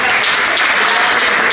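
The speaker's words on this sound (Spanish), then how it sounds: "Un aplauso." Loud, dense applause from a crowd, steady clapping throughout with no pauses.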